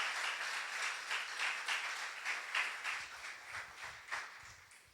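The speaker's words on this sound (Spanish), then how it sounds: "Usted le da un fuerte aplauso a Dios por esa misericordia de Dios" Applause from a church congregation in a Spanish-language service, a steady patter of clapping that thins and fades over the seconds, with a few louder bursts near the end.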